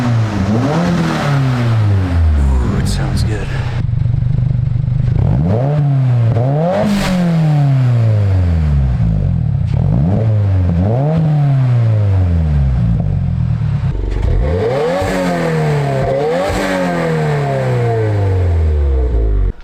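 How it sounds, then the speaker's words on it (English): Close, loud revs from a Subaru WRX fitted with a VB titanium single-exit exhaust, with repeated sharp blips rising and falling over an idle, and a brief approving comment from a man partway through. "Let's give it some revs."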